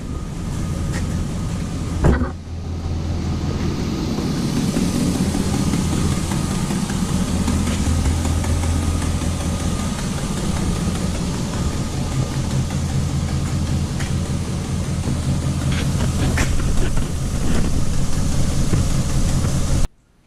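A 2000 Chevy Silverado 2500 pickup engine idles with a steady low rumble, close and constant, with a brief dip early on and no voices.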